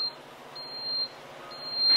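A Philips HD9137 egg cooker's finished alarm: short, high electronic beeps sound in a repeating pattern, fairly quiet against a faint background hum.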